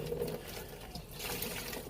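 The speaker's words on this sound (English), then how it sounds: "You just keep draining the water until it becomes clear." Water drains and trickles away as dyed 100% cotton yarn is rinsed, a soft continuous splashing that grows slightly fuller partway through. It is quiet and close, with no talking over it.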